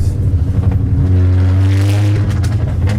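A car engine revs hard with its exhaust popping and crackling. A loud, throaty rev climbs and holds, and sharp pops scatter through the end of the burst.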